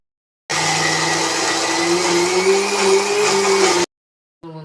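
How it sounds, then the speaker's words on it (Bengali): A small electric mixer grinder blends soaked raw green chillies with water into a paste: a loud, steady high-pitched whir that runs for about three seconds, then cuts off abruptly. "এটা এখন মিক্সিতে পেস্ট করে নেবো"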